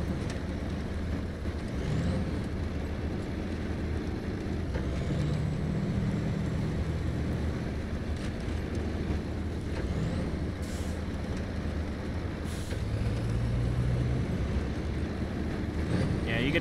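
A stock Chevy Kodiak K70 truck labors in the SnowRunner game, its engine a continuous, heavy low rumble with a few hissing bursts, steady and close for the whole stretch, with faint talk underneath.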